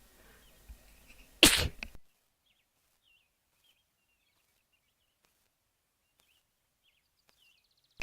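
A single sharp sneeze bursts out loudly, followed by near silence with faint, distant bird chirps.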